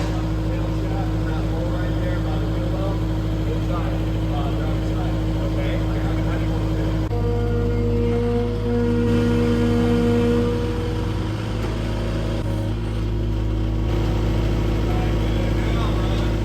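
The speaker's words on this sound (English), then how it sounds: "Well, that's Ray, Rayman Ray, driving the, what is that, skid steer?" A skid steer loader drives at a work yard, its steady diesel engine drone running continuously close by, with people talking over it throughout.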